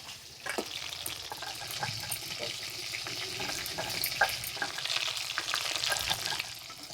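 Shol fish curry ingredients frying in a pan over a low flame, a steady close sizzle with occasional stirring scrapes and crackles that swell slightly partway through.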